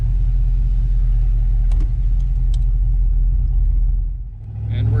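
Ford Mustang Fox Body engine running rough while driving, a loud continuous low rumble with a steady drone and a brief dip near the end, heard close from inside the car with no talking.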